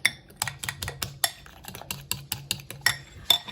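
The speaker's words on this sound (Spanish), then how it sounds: "Batimos un poquito el huevo, le agrego la mayonesa, la sal y la harina y lo mezclamos." Beaten egg being stirred with mayonnaise, salt and flour for fish fingers, a utensil clinking and scraping against a bowl in a quick steady rhythm of close, light taps.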